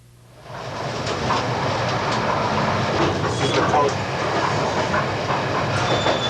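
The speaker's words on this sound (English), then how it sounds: "Now we're on the train from Hong Kong to Canton." A passenger train from Hong Kong to Canton, recorded in 1986, rumbles with a steady, loud roar of wheels and carriage noise that swells in after a quiet start and holds throughout.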